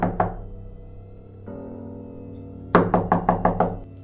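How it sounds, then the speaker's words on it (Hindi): Several sharp knocks on a door for a horror story about a haunted hospital: a couple of raps at first, then a quick run of about six loud knocks after a quiet pause, clear and close with no talking. "कुछ देर बाद फिर से किसी ने दरवाजे पर दस्तक दी।"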